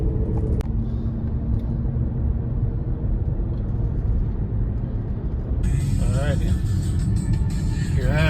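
Steady low rumble of a car driving on a road in Ukraine, heard from inside the cabin, continuous and fairly loud throughout, with a brighter burst of road or wind noise joining in the final seconds.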